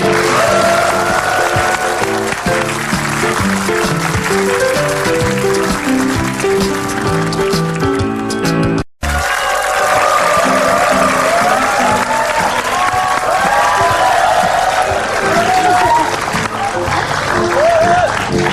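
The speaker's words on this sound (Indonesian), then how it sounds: "ibu-ibu itu tadi ya tepuk tangan sendirian loh" Dense, sustained studio audience applause on an Indonesian television talk show, loud and close, with music and cheering mixed in, briefly cut off midway before resuming just as full.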